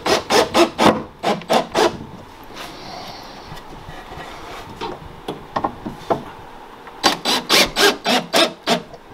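Screws driven into the back piece of a wooden pistol cabinet, heard as two rapid runs of rhythmic gritty bursts at the start and end, with a quieter scraping stretch in between.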